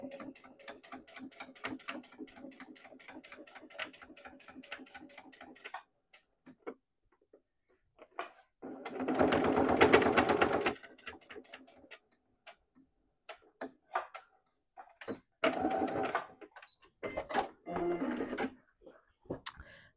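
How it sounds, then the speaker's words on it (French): Sewing machine stitching a 3-4 mm seam on a wallet, a rapid rhythmic ticking run at first, then louder bursts of stitching with pauses and handling clicks in between. "Je fais une petite couture à 3-4 mm, hein, c'est vraiment histoire de les maintenir."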